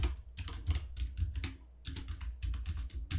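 Rapid, uneven keyboard typing while C++ code is edited, a close, steady clatter of many keystrokes with short pauses, no voices.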